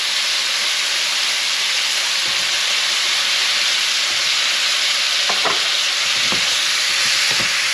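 Brinjal cut into long strips sautés with rice in a pan for vangi bath, giving a loud, steady sizzle with intermittent spatula scrapes and clicks toward the end and no voices.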